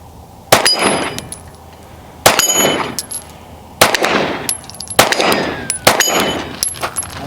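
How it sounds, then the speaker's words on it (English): Handgun shots from a P320 with an SMC Bravo chassis striking a 5-inch round steel target on a range: four or five sharp, loud reports, each followed by a ringing metallic clang, spaced irregularly over several seconds. "Marco's going to shoot the 5-inch round steel that we have on this War Labs target"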